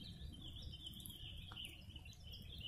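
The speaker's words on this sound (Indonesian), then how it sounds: "Di sini burungnya banyak sekali ya." Birds call steadily in the forest on Mount Ungaran, a thin high chirping band with insect-like buzzing, faint and distant over a soft patter of background noise.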